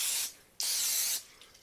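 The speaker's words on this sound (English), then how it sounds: "going to give it another spray, put the rest of our batter in there" Cooking spray hisses from a can onto a mini waffle maker in two bursts, a short one followed by a longer, louder one, close and with no talking.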